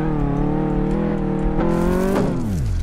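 In Car Mechanic Simulator 2018, a car engine holds a loud, steady drone during a brake test, then its pitch slides sharply downward as the car slows to a stop.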